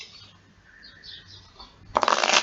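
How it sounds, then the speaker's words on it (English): A deck of tarot cards is shuffled for a Celtic cross reading: after a quiet stretch, a dense, crisp riffling burst starts near the end and carries on loudly to the close. "as I shuffle, I always say I am grateful and thankful"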